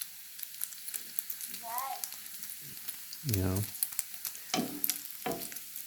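Bacon crackles and sizzles in its own rendered fat in a pan, a steady close hiss with scattered pops, interrupted by a few brief voiced sounds.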